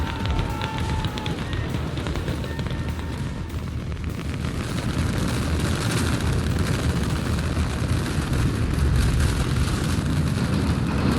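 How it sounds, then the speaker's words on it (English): A SpaceX Starship rocket lifts off with a dense, continuous roar that stays loud and steady, swelling slightly toward the end with no break. "We have liftoff."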